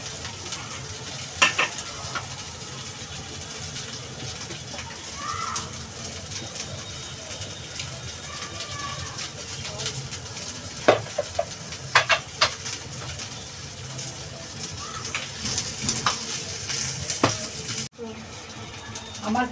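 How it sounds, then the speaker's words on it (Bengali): Onion and garlic fry in a pan for a Bengali coconut prawn curry, giving a steady, fairly quiet sizzle with occasional sharp crackles and stirring clinks throughout. "আমার পেঁয়াজ রসুনটাও ভাজা হয়ে গেছে"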